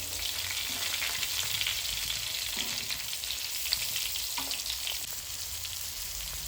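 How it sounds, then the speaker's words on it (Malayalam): Pomfret fish frying in oil on a low flame, a steady, dense, close sizzle that holds evenly throughout with only faint crackles and no pauses. "അപ്പോൾ നമുക്കത് ലോ ഫ്ലെയിമിലിട്ട് നന്നായിട്ടൊന്ന് ഫ്രൈ ചെയ്തെടുക്കാം."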